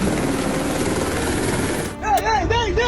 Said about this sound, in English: real-life rescuers arriving by helicopter to evacuate people from a rooftop